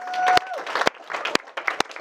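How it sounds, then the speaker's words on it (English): Wedding guests clap in a sparse scattering, a few distinct sharp claps spaced through two seconds over murmured voices and a brief tone, rather than a full burst of applause. "Can we give them a round of applause?"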